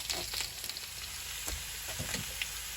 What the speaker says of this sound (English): You hear the taters over there going to town.